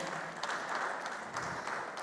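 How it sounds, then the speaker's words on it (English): Brief burst of steady audience applause at a tech conference in Africa, moderately distant and continuous throughout. "I believe it deserves another warm round of applause."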